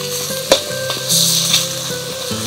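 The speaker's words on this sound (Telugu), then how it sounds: "ఇప్పుడు ఇందులో నూరి పెట్టుకున్న మసాలా ముద్దను వేసుకుందాం." Ground masala paste sizzling and frying in a pan with onions and tomatoes for a farm chicken egg curry, a steady loud sizzle broken by a few sharp clinks and stirring scrapes, with no talking.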